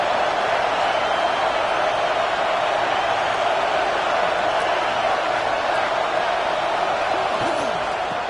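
Football stadium crowd roaring on 2nd down, a loud, dense, unbroken wall of cheering and noise, steady throughout.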